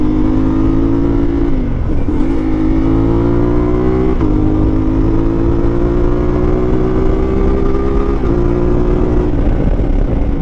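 CF Moto 450MT motorcycle engine, with a new 15T sprocket, revving loud and close with rising pitch through several gear-like steps, under continuous exhaust drone.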